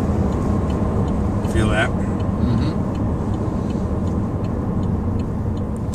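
A 2011 Chevrolet Volt rolls along with regenerative braking engaged, heard from inside the cabin as a constant low road rumble and hum while people talk.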